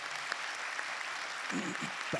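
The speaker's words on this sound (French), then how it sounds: "Je pense qu'on peut applaudir Guy sur cette dernière observation." An audience applauds steadily during a round-table discussion on social solidarity policy. The clapping is even and moderate, and a voice starts speaking over it near the end.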